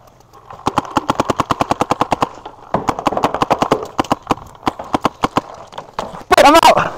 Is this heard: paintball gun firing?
yes